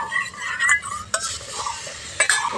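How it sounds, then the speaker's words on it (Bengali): A cashew-poppy seed spice paste being stirred in a pan over low heat for a bitter gourd rezala, with soft continuous scraping and a faint sizzle punctuated by a few sharper utensil knocks. "আবারও মশলাটা হালকা আঁচে কষিয়ে নেব।"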